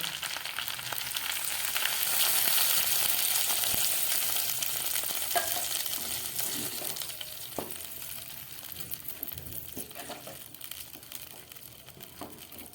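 Fish head with cabbage fries in a pan, and water goes in. A steady, close, broadband sizzle fills the whole stretch, easing slightly later, with a few faint scrapes and clicks.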